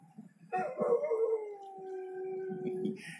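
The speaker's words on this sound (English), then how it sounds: "There's my dog." A dog named Birdie gives one long, sustained howl that starts after a half-second of soft background and slowly falls in pitch over about two and a half seconds.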